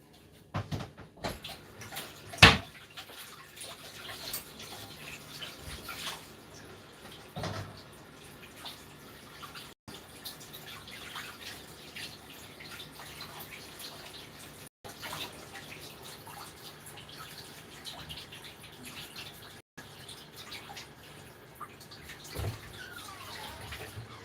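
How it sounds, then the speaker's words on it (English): Cold tap water runs steadily while something is rinsed in a kitchen sink, a continuous splashing wash with a few sharp clatters near the start, recorded close and moderately loud with no talking. "rinse this with some cold water"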